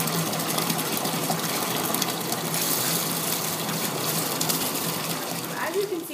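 A raspberry bath bomb fizzes and gushes in bath water, a steady close hiss of bubbling and sloshing that holds for several seconds.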